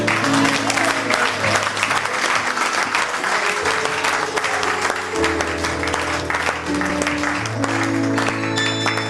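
A church congregation claps steadily and loudly for the whole stretch, a dense wash of applause with music tones held underneath and a faint voice now and then.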